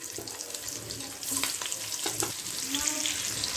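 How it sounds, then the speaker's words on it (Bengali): Nigella seeds and onion tempered in hot mustard-style oil left over from frying fish, giving a steady close sizzle and crackle with faint stirring clatter, growing louder partway through; no talk. "যে তেলে মাছ ভেজেছিলাম সেই তেলে আমি রান্নাটা করব। কালো জিরে ফোড়ন দিলাম, পেঁয়াজ ফোড়ন দিলাম"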